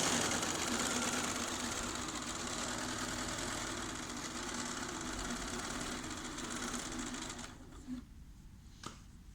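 A Bernina B570 QE sewing machine stitches fabric at a 4 mm stitch length, humming and rattling steadily up close before slowing and stopping near the end, with no talk over it.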